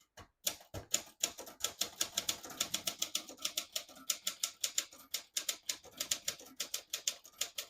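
Brisk, steady typing on a 1965 Olympia SF vintage portable typewriter: close, crisp key strikes arrive in a continuous rhythm, each one a sharp clack with a cushioned mechanical thud. No one speaks.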